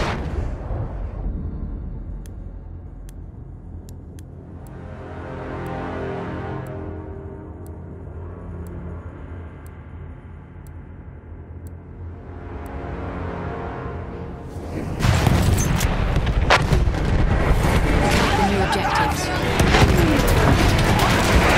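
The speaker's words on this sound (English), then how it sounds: "Wait for the enemy artillery barrage to stop firing." Enemy artillery barrage in the video game Battlefield V: a steady low rumble of distant booms and blasts that swells, then turns into a loud, dense burst of explosions and gunfire near the end.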